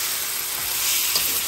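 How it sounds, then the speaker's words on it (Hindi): Chicken pieces frying in a pan for yakhni pulao, a steady close sizzle and hiss with a faint scrape of stirring partway through, no voices. "तो हम इसमें ऐड करेंगे चिकन, चिकन को जो है हम यहाँ पर अच्छी तरह 3 to 4 minutes के लिए भून लेंगे।"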